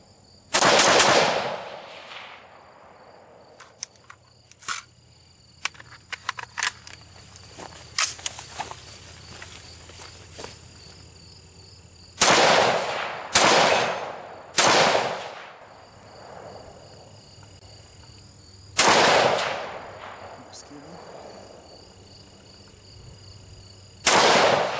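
An AR rifle fitted with a Seekins Precision ATC muzzle brake fires outdoors in a field: sharp, loud shots, each with a ringing tail, some spaced apart and others in quick clusters, over a constant background of crickets.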